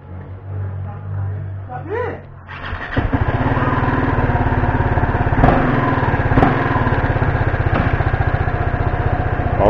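Motorcycle engine sputters and catches, then runs with a loud, close, rapid putter as the rider moves off. Wind buffets the microphone, and muffled sounds come before the start.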